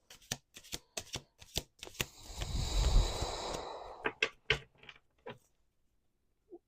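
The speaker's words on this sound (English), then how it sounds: "Last 2 shuffles." A deck of cards shuffled up close, with rapid crisp taps and flicks followed by a longer riffling cascade and a few final soft taps in a quiet room.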